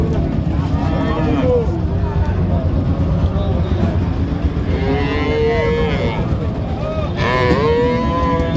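A milch cow lows in long, drawn-out moos, several of them, amid crowd babble and talk at the Satmail cattle market in Jessore, Bangladesh.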